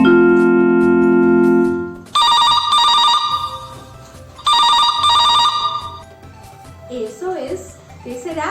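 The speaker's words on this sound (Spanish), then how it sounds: "Es un teléfono." Telephone bell ringing in a home, two loud bursts of rapid electronic trilling separated by a pause, followed by a voice speaking softly.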